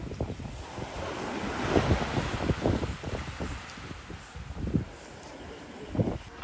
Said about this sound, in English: I don't think there's a better sound than the sound of waves crashing against the beach.